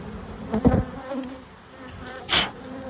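Honeybees buzz around an opened hive during an inspection after a nuc installation, with a couple of louder close passes over a faint steady hum.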